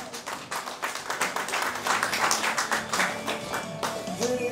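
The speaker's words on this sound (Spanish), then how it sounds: "¡Fuerte las palmas para él!" Applause at a quinceañera party: dense, continuous clapping from the guests that holds steady and fairly loud throughout, with faint tones and voices in the background.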